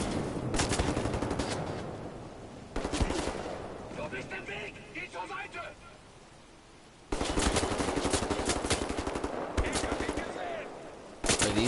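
Gunfire in Wolfenstein, rapid automatic bursts in several loud clusters separated by quieter gaps with scattered single shots, close and punchy, with a voice speaking at times.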